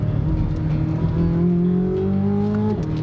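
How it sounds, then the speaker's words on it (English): A car engine revs loud and close with a rising, layered drone, then dips sharply as the driver downshifts near the end. "A downshift."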